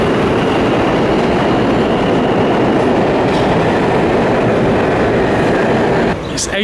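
A New York City subway train roars loud and close with continuous rumbling and rattling wheels on the track, easing off slightly near the end.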